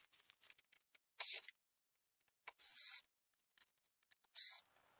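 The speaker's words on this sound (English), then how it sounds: "I'm just going to take out these screws here" Screws are backed out of the throttle sensor housing on an EZGO golf cart, giving soft close ticking and scraping with three brief, hissy squeaks of a screwdriver turning, separated by quiet pauses.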